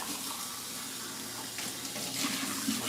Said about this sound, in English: We're going to rinse out the tin cans so they can go